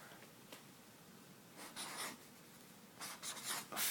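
Pen or pencil writing an equation on paper, close, quiet scratching strokes coming in short bursts with brief pauses between them.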